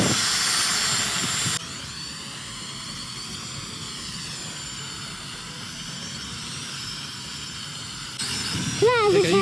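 A toy FPV quadcopter drone hovers in place with a steady, high buzzing whine that holds for several seconds, then shifts as the drone moves near the end.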